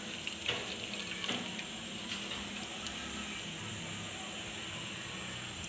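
Chicken soup broth for Hainanese chicken rice soup pours through a sieve in a steady, close, continuous splashing trickle with no talking.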